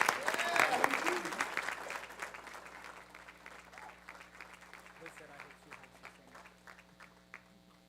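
A school board meeting audience applauds a middle school's 2025 Teacher of the Year, dense clapping that starts loud and gradually thins to scattered claps, with voices in the room.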